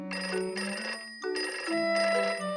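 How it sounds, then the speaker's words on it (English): Cartoon telephone in a Peppa Pig episode ringing in two quick electronic trills, a short pause between them, bright and clear with no talk over it. "Danny Dog has answered the phone."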